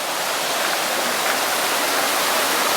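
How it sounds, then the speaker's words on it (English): A large waterfall beside a bridge in a rainforest roars as steady, dense broadband rushing water, constant and loud throughout with no voices. "you got this giant bridge with this crazy waterfall"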